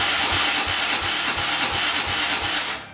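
A turbocharged EFI 660 engine on a lawnmower runs at a steady RPM, its rhythmic pulsing drone loud and close before it tapers slightly at the end.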